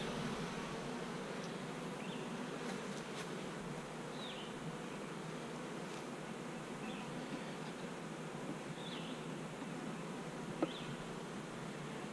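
Queenless honeybees in an open hive, a dense, even droning hum with a few louder individual bees passing close, faint and steady throughout without talk.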